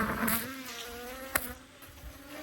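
Honey bees swarm around an opened hive, giving off a close, continuous buzzing hum with a few sharper passes as individual bees fly near.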